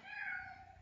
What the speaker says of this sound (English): My other cat's crying.